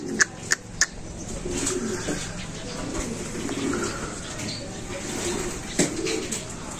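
Racing pigeons coo in low, soft, repeated murmurs nearby, with a few sharp taps at the start and another knock later.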